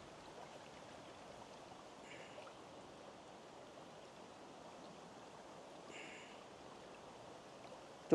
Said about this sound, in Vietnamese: Chú đang đi ra suối để chú lấy nước này cả nhà.